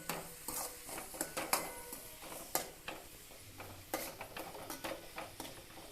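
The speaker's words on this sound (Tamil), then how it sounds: "நல்லா வந்து தக்காளி வெங்காயமும் வதக்கணும்" Tomato and onion sautéing in a pan, a soft sizzle under repeated clinks and scrapes of a spoon stirring against the metal, quiet and close.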